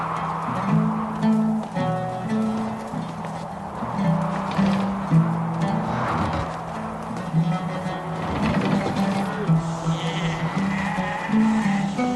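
Sheep bleat repeatedly in a flock, with layered calls at varying distances over steady outdoor ambience and no talk.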